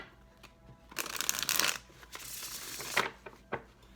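Tarot cards riffle and shuffle in quick, close bursts, with soft rustling and taps between them and no voices.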